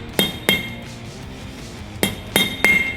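A hammer strikes a metal punch to seat a boat trailer wheel bearing, five sharp ringing metallic hits, two close together early and three more after a pause, loud and near with no talk.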